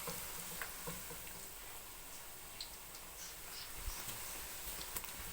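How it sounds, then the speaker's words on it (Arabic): Almond briouats deep-frying in a large, heavily filled pan of oil, giving a steady close sizzle with scattered small pops and crackles throughout, no talking. "هو خص يكون الزيت كثير، يكون البريوات راقصين هكا في الزيت"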